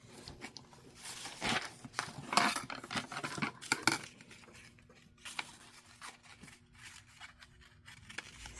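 Scissors snip through paper in a series of short, crisp cuts, some clustered quickly together, close by and with no talking.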